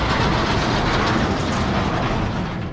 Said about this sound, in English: guys tearing out the bleachers over there.